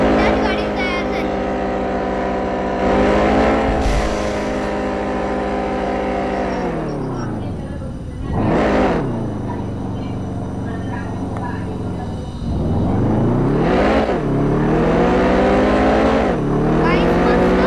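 A car on a test drive, its engine revving up and easing off in repeated cycles, loud and close, with gear changes between pulls while people talk over it.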